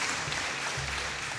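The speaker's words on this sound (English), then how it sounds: "Please, let's give them a round of applause." Audience at a hackathon event claps in a round of applause, a steady, moderately loud patter of many hands without talk.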